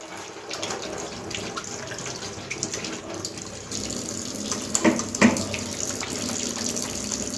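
Tap water runs steadily into a sink for handwashing in a clinical examination setting, a soft continuous gush with a few brief splashes and knocks as hands move under the stream, no talking.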